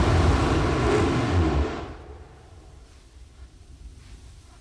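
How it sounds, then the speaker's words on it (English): Terran 1's 3D-printed rocket engines ignite on the launch pad with a loud, broad roar that lasts about two seconds, then drops off quickly to a faint, rumbling quiet. "we had ignition of our engines"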